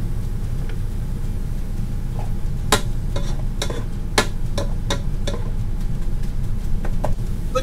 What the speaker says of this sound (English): I want to brown the meat